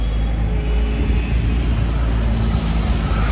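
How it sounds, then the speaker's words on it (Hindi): A Maruti Ertiga car driven along an empty road, giving a steady low engine and road rumble with constant cabin noise and no speech. "आज मैं गाड़ी चलाने जा रही हूँ।"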